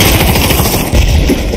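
Pistol gunshots in the VR shooter Pavlov, loud and close, a rapid run of cracks packed into a short burst with a heavy blast just before the middle.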